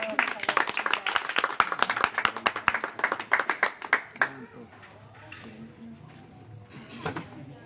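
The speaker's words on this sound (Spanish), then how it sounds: "Fuerte el aplauso para el Señor." A church congregation at a service claps rapidly in a dense, irregular burst of applause that fades after a few seconds, leaving quieter room sound and scattered claps.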